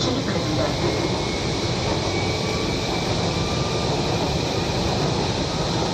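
A Kochi Metro train cabin hums with a steady, loud rumble of wheels and motors, with broadband noise filling the car and a faint high whine running throughout.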